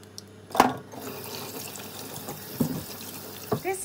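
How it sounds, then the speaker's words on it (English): Tap water runs steadily as a Japanese cucumber is washed under it, with a few louder splashes and knocks against the sink between the flowing water. "So first wash our cucumber."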